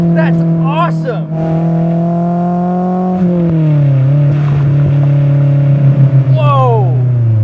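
A Honda S2000's F20C1 engine, rated at 240 horsepower and revving toward 9,000 RPM, holds a loud, steady high-pitched wail heard from the cabin, dipping slightly in pitch midway with brief shifts and surges.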